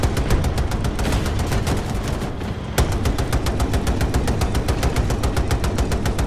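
Sustained automatic weapon fire in Battlefield 2042, loud and steady with evenly spaced shots, one brief pause, then another long burst.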